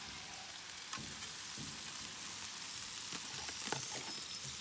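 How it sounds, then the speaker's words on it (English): Canned carrots sizzle in melted butter and oil on a flat Blackstone griddle at a hibachi-style cook, with a steady close frying hiss and a few sharper crackles and pops scattered through it. "And then just put your carrots right on top of that butter."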